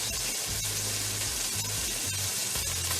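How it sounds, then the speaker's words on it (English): Onion hitting a hot pan for paella, giving a continuous close sizzle with a few stirring scrapes and no voices over it. "Okay, add the onion."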